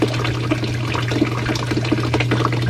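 Water gurgles and rushes steadily as it drains through a 6-inch siphon, a continuous close, full-bodied flow with splashy bubbling over a low steady hum.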